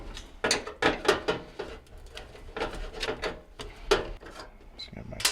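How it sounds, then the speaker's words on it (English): A 5/16 screw being backed out of a Maytag washer during repair, a run of short ratcheting clicks and metallic scrapes in quick bursts, close and moderately loud. "Just get my screw out."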